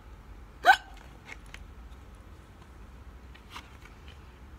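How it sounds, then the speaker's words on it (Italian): A frightened wolf character in a children's story gives a single sharp, loud hiccup near the start, followed by faint scattered clicks against a quiet background. "La paura ha fatto sparire il singhiozzo?"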